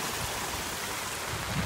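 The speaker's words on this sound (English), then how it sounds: "Out here in the rain again" Steady rain pours down across a neighborhood during Hurricane Florence, a dense, even hiss of falling water that holds at the same level throughout without a break.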